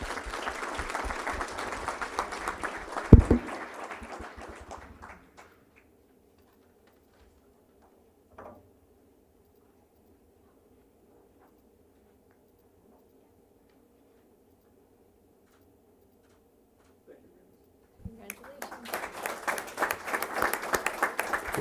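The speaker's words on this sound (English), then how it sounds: "Let's give him a round of applause" Two bursts of clapping from a crowd at a school board meeting: a lively round that fades out, a long near-silent gap with a faint thump, then the applause swells again.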